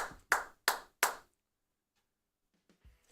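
Four sharp, evenly spaced claps ring out close and loud during a live Philadelphia Eagles news stream, followed by near silence and a couple of faint thumps.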